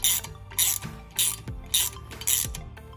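A socket ratchet clicks in quick bursts while snugging M8 by 1.25 bolts during a front brake change on a 2015 Toyota RAV4, about five close, sharp ratcheting strokes with short pauses between.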